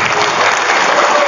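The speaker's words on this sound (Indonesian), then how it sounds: "Tepuk tangan dulu." A short burst of dense, loud applause from a mosque congregation during a religious lecture, steady with no break.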